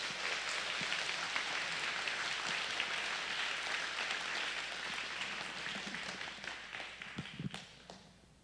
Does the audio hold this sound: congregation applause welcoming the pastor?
yes